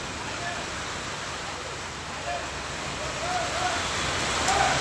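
A downpour of heavy rain in Bahucharaji makes a broad, steady roar, swelling slightly louder toward the end, with faint voices now and then under the wash.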